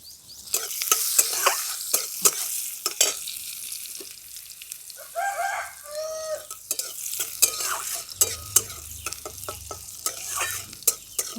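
Finely chopped onion sizzles in hot oil with black cumin tempering, with steady frying and several bursts of stirring and spoon scraping close by.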